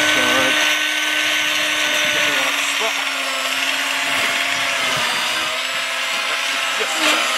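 Steady high-pitched motor whine of an HT20 branch cutter as its blade saws through a branch during pruning, a continuous drone with faint rasping texture, close and fairly loud with no talk.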